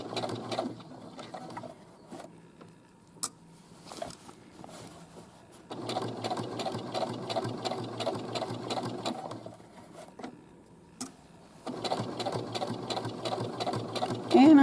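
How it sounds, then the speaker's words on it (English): A sewing machine stitches a casing on shorts, running in a steady, fast mechanical patter through several long bursts separated by brief stops, close and alone. "And I'm just stitching along."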